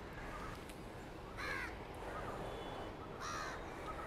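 Crows caw at a household ancestral offering, two bursts of harsh calls standing out over steady background noise, with fainter caws in between.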